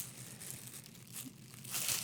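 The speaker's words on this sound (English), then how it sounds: "It is a see-through, crinkly bag" A thin see-through plastic bag crinkles faintly and close up in irregular rustles that grow louder toward the end, with no voices.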